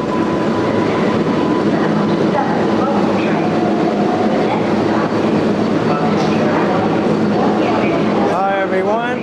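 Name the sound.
number 7 subway train at Times Square 42nd Street station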